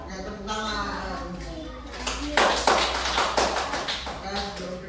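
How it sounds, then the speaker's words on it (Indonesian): A class of students clapping their hands together in a classroom, a dense burst of near applause that follows talk and fades into scattered claps while voices continue. "Oke, tepuk tangan."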